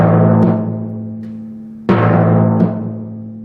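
A timpani dampened with a light touch right where it was struck. Two close, clear strokes each give a sharp attack and a low tone that decays gradually. Faint taps sound between them, and no one speaks.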